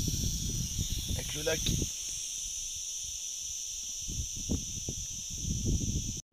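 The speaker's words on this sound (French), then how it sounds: "couché dans son lit, au milieu des cigales qui chantent" Cicadas by a lake keep up a continuous high, shrill drone, loud and steady throughout, with someone talking beneath it and rustling near the start.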